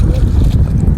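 Cold wind blowing across a vast, sea-like expanse of water in the Rann of Kutch, heard as a steady, low, buffeting rumble against the microphone for about a second.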